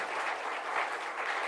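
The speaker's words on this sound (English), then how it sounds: "Let's give them a round of applause." A room of people at a panel on Black entrepreneurship gives a round of applause, continuous and fairly close clapping with no voices over it.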